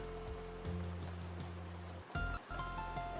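Soft rain effect, a steady wash of droplets, blended into a game's background music with sustained low tones and occasional brighter notes, playing alone without any talk.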